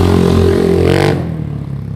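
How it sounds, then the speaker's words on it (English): A 1997 KTM 620 LC4 motorcycle engine with a Mikuni carburetor revs hard and loud, climbing in pitch for about a second before the throttle drops off into a rough idle. "it kind of revved like a 450 motocross bike"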